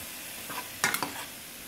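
Ground beef browning in a pan while cooking spaghetti: a few soft stirring scrapes and short sizzling bursts over a low, steady background hiss, with no talking.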